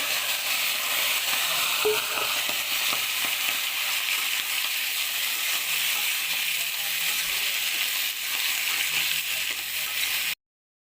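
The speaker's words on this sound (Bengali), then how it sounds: "আবার এবার যে কেটে রেখেছিলাম যে সবজিগুলো দিয়ে ভালো করে কষিয়ে নেব" Chopped vegetables sautéing in a pan with garlic, onion and ginger for a spiced vegetable khichdi, a steady loud sizzle and hiss with occasional stirring scrapes, continuous and close before cutting off abruptly near the end.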